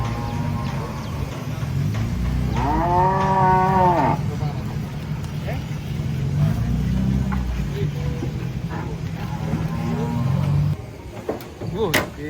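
A giant, agitated cow moos loudly and close by, a long drawn-out low call followed later by a second moo, over a steady rumble of farmyard background noise.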